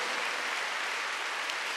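A church congregation at a Wednesday worship service applauds in a steady, even wash of clapping, moderately loud and continuous, with no voices standing out.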